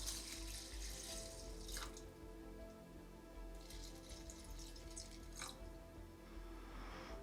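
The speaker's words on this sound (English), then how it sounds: "Let's pop the water in so that it just covers the top of the contents." Water poured into a rock tumbler barrel over beads, a soft trickling and splashing stream with a few brighter pours, faint and close, with no talking.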